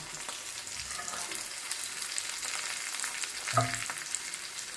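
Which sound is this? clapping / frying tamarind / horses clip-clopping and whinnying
frying tamarind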